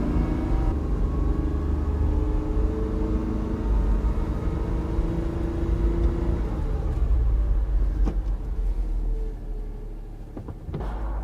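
Steady low road rumble and engine drone from inside a moving 2004 Suzuki Carry 4WD kei truck with little sound deadening, with faint knocks and rattles near the end.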